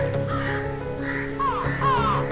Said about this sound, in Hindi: अरे ये इतने सारे कौवे कहाँ से आ गए?